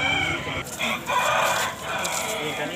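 A large rooster crows loudly at a rural country chicken market, its strained call rising over the clucking of other fowl and the murmur of people nearby.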